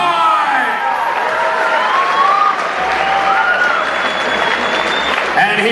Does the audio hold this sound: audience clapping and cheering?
yes